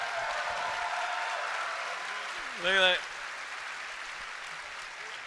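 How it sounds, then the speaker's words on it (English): Audience applause at Star Wars Celebration Orlando 2017 fills a large hall, a steady broadband clatter of many hands running throughout, with a brief voice breaking through near the middle. "give them a round of applause"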